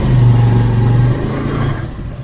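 Bajaj Avenger Cruise motorcycle engine idling and revving just after a bump start with a weak battery, a loud close mechanical drone that dips and eases off partway through.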